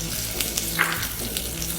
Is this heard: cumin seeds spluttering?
yes